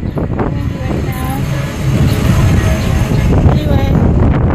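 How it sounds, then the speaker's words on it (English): Low rumbling wind buffeting the microphone outdoors, a steady blustery roar that grows stronger partway through, with faint background activity. "Sorry for the wind, it's kind of windy right now."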